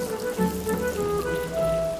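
Steady rain falls outside in a film scene, a soft continuous patter under faint tonal background music.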